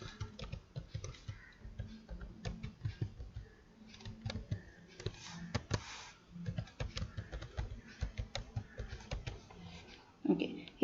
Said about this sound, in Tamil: இப்போ நான் இமெயில் ஐடியை டைப் பண்ணிட்டேன்.